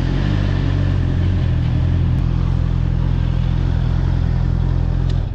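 A Honda motorcycle engine, a CBR650R or CB1000R, droning loud and steady during a test ride, a continuous close engine roar with wind rush and no break.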